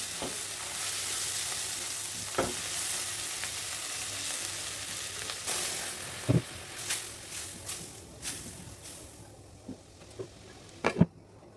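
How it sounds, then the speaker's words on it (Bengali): Shrimp curry with spices in a pan sizzles as cauliflower steaming water is added, then is stirred, giving a steady close frying hiss with scattered sharp spoon clacks toward the end. "এখন এর মধ্যে আমি সেই ফুলকপি ভাপ দেওয়া পানিটা দিয়ে দেবো"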